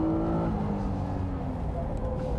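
A Honda NSX Type S on a race track, its engine note sweeping downward as it passes or lifts off, loud and continuous with steady road rumble, while a voice talks faintly underneath.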